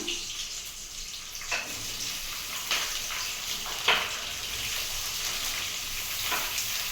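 Ivy gourd pieces fry in oil with onions in a pan, giving a steady, close sizzle with occasional sharper scraping bursts from stirring and no talking.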